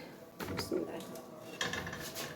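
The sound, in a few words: pot of matar aloo pulao rice taken off the stove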